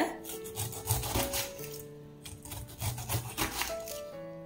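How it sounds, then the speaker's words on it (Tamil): A knife cuts through a cleaned, peeled pineapple to halve it, making close, rhythmic rasping, crunching strokes over soft background music. "பைனாப்பிள் சுத்தம் பண்ணி எடுத்துகிட்டு வந்துட்டேன் இப்போ கட் பண்ணிக்கலாம்"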